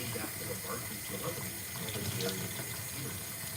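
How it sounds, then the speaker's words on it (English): Hot water running from a tap into a kitchen sink as it fills for washing dishes, a steady close rush and gush throughout, with faint voices underneath. "now I'm gonna try it again and fill the sink up with hot water and soap"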